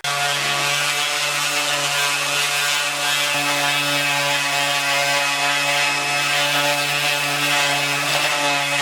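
A sander and a Dremel grind paint off a Honda S2000 exhaust, giving a loud, steady mechanical whine with a buzzing edge that runs without a break and with no voices.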